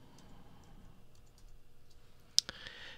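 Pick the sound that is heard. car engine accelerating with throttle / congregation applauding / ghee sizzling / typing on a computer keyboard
typing on a computer keyboard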